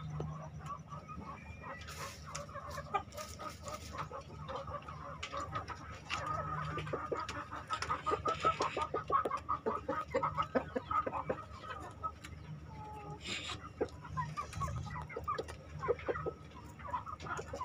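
Village chickens on a farm cluck and cackle in an irregular, busy stream of calls, some close and some farther off, over faint background noise.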